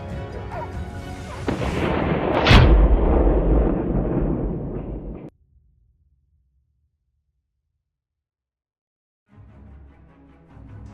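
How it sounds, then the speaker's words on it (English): A hunting gun fires during a wild boar hunt on a snow-covered trail with hunting dogs, a single loud close boom that sustains briefly amid outdoor noise, then cuts to silence before faint ambient sound returns. "The gunshot rang out."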